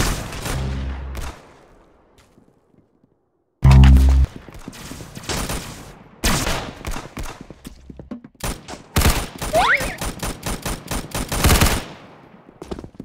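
Rapid automatic gunfire from the Roblox shooter Arsenal, dense bursts after a brief lull, loud and close with a few sharp single shots mixed in.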